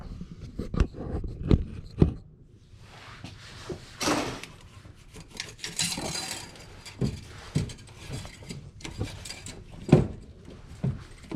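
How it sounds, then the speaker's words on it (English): Plastic parts click, snap and rattle as the intake is pulled off a 2015+ Subaru WRX engine, with scattered close knocks and scraping bursts across the stretch and no speech. "I'm gonna remove the intake here"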